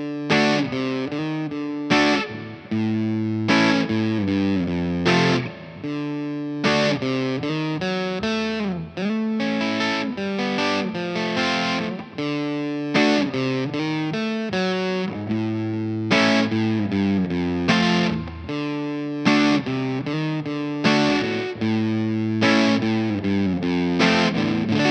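A fuzz-distorted electric guitar, with its volume knob rolled back to about 7, plays a clean-ish chord part. Rhythmic strummed chords with short breaks between phrases ring out loud and close, with no talking.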